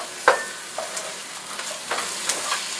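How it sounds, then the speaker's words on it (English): Carrots stir-fried in a pan with sautéing garlic, onions and ginger for pancit bihon: a close, steady sizzle broken by a handful of sharp spatula scrapes and clacks against the pan. "So go ahead and add the carrots as well. Stir that up with the sauteing garlic,"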